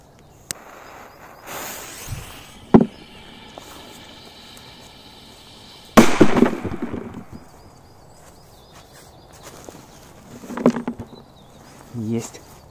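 A large Grom firecracker explodes once with a sharp, loud bang midway through, its noise tailing off afterward amid scattered smaller crackles and rustles outdoors, with people talking quietly nearby.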